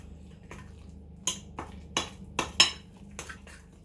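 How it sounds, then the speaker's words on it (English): A knife stirring muffin batter of flour and eggs in a mixing bowl, giving a run of light, irregular clinks and taps against the bowl, close and fairly quiet. "Me and Mum like to mix with a knife."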